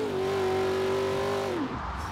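Car engine in Forza revving through a downshift, a steady loud droning tone held for over a second before pitch drops sharply as the revs fall, alone without talk; a 1969 Camaro on a track approaching a tight turn.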